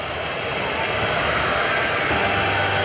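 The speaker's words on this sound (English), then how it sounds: "here comes the mighty C-17 Globemaster III, driven by 4 massive Pratt & Whitney PW-117 engines" Four Pratt & Whitney PW-117 jet engines of a C-17 Globemaster III roar in a loud, steady, broadband wash at an airshow open house, continuous and close throughout.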